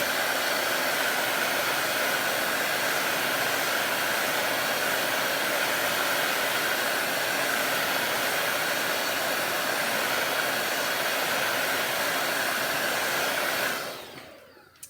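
A hair dryer runs continuously while drying paint on a barn quilt hexie project, a steady loud whooshing blow close by for about fourteen seconds before it switches off and winds down.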